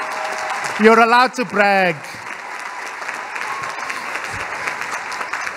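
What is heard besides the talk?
first-year students applauding at welcome day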